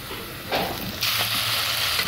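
Mutton pieces hit hot oil with golden-brown onions for palak gosht, a sudden loud sizzle that flares twice and then settles into a steady crackling fry, with no voices.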